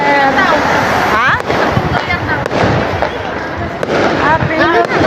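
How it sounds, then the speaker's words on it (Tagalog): Fireworks burst at a New Year celebration near Saint Harissa, a loud run of crackling pops and booms that continues throughout, with people talking and calling out over them. "May fireworks pa yan."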